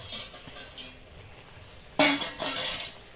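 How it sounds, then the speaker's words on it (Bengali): A metal pot lid lifted off a pot of boiling raw mango, a sudden clanking rattle and clink of metal after a quiet stretch, close by with no talk. "খুলে দেখবো আমার আম সিদ্ধ হয়েছে কি না"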